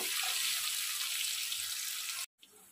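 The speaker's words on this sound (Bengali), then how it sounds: "এরপরে আমি পেঁয়াজগুলো দিয়ে দেবো। পেঁয়াজগুলো যতক্ষণে সোনালি রঙের হচ্ছে ততক্ষণে আমি একটু নাড়াচাড়া করব।" Onions frying in a pan for a Bengali-style tilapia fish curry give a steady broadband sizzle that holds evenly, then cuts off abruptly near the end before a softer hiss returns.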